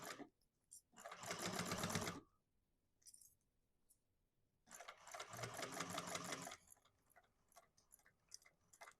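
A sewing machine bastes fabric in place while sewing a modified Mercury Bag, running in two fast, even stitching bursts of about a second and two seconds with quiet pauses between, close and clear, with no talking.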